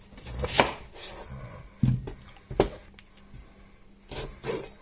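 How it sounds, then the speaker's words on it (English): Onion chopped with a knife for a Galician-style omelette, scattered sharp knife taps and cuts on a board, close and spaced irregularly with quiet gaps between them. "Now I'm going to chop in some onion."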